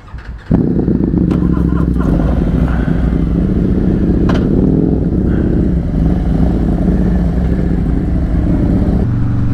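A Harley-Davidson Sportster Iron 883 with fuel injection starts and settles into a loud, close, lumpy idle, with one brief blip of the throttle partway through, before cutting off at the end.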